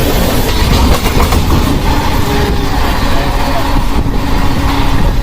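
A 20412 MEMU superfast train runs at about 110 km/h on the Saharanpur to Muzaffarnagar line. It gives a loud, steady roar with dense rattling and rumbling from the rails, close and continuous the whole time.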